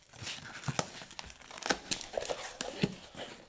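Taped packaging on a model kit crinkles and tears as it is opened, a close, quiet run of sharp rustles, rips and crunches in an irregular rhythm with no talk.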